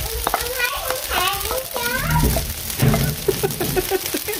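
Rice, Chinese sausage and canned meat stir-fry in butter in a pan, giving a soft, steady sizzle with scraping stirs, while a child and an adult chatter over it.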